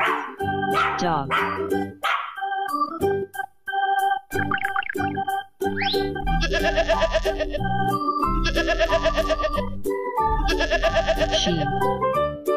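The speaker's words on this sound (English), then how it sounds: "Sheep." Sheep bleating in three long, wavering calls in the second half, loud over upbeat children's music.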